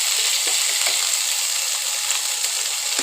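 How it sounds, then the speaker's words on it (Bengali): Ginger paste and spices sizzle steadily in a pan still hot from frying paneer, a close, continuous frying hiss with faint scraping clicks as the mixture is stirred. "পনির ভেজে নিয়েছিলাম, সেই কড়াতেই মশলাগুলো দিয়ে দিচ্ছি। প্রথমে দেব আদা বাটা"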